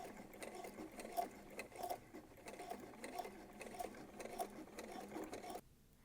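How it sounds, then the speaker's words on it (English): A sewing machine back stitching at the end of a skirt vent seam, a quiet rapid mechanical rattle with a rhythmic clicking pulse, ending abruptly near the close. "And I'm just going to go to the end of it and do a couple more back stitches."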